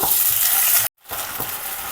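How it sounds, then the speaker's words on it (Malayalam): Gobi manchurian being stirred with tomato sauce in a hot pan, loud sizzling and scraping that cuts out briefly, then resumes more softly. "നമുക്ക് നന്നായിട്ടൊന്ന് ഇളക്കാം"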